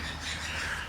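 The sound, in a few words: birds calling outside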